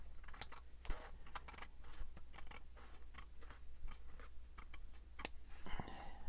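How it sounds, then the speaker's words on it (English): Sharp scissors snipping along the edge of a crooked paper envelope, a run of small crisp cuts spaced irregularly, close and fairly quiet with no voices. "So I'm going to have to trim it anyway."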